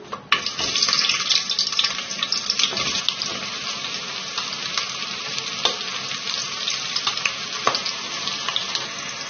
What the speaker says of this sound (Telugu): కాస్తంత కరివేపాకు కూడా వేసి చక్కగా వేయించుకోవాలి